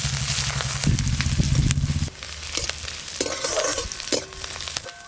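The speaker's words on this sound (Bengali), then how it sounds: "পেঁয়াজ আর শুকনো লঙ্কা একটু হালকা করে ভেজে নিয়েছি।" Onion and dried chili frying in a pan, a close crackling sizzle broken by spatula scrapes and knocks against the pan, loudest early then settling lower, with no talking.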